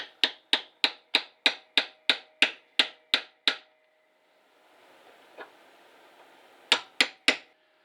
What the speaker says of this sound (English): I'm going to try and just see if I can chisel this down